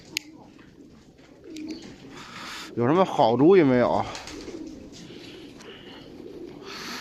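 Pest birds raid a yard where chicken feed is scattered: one loud, close, pigeon-like coo rolls for about a second, and someone speaks before and after it.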